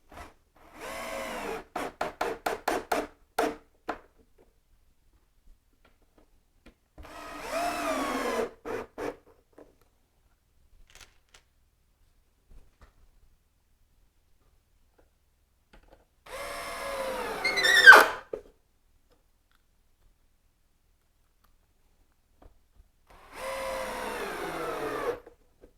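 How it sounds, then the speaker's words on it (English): Power drill driving screws into a concrete sink mould, four separate bursts of whirring spaced several seconds apart, the first stuttering in short pulses and the others running steady, close and clear with quiet gaps between. "put some screws in."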